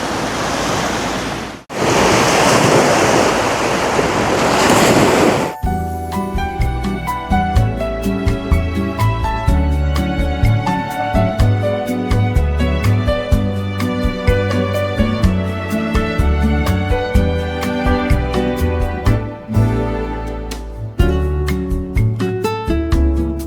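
Sea waves at Jesolo Beach, Italy, on an empty early-morning shore give a loud, steady surf roar for about five seconds before music takes over.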